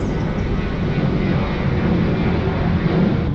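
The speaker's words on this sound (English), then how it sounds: "you can get a really close view of planes taking off and landing" A fixed-wing airplane taking off or landing near DCA National Airport at Gravelly Point, a loud, steady engine roar that fills the whole stretch close overhead with no voices.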